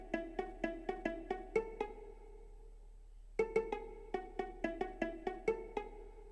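Pizzicato viola arrangement built in Soundtrap plays a run of short, evenly spaced plucked notes, falls silent briefly, then continues with another plucked phrase, all quiet and alone.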